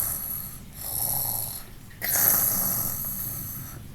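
A voice makes a rough, throaty snoring sound in two drawn-out breaths, close and moderately loud, imitating a snore.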